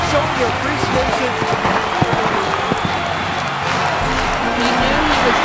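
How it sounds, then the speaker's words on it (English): Standing show-jumping crowd applauding a new champion, dense continuous clapping and crowd noise throughout, close and loud, with a commentator talking over it. "look at this crowd on their feet showing their appreciation"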